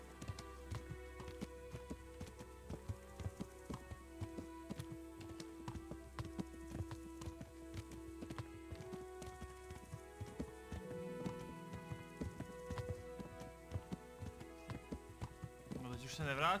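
Horse hooves clip-clopping in a trot across ground in the video game Kingdom Come: Deliverance, a quiet, even rhythm of repeated hoof strikes over a steady background.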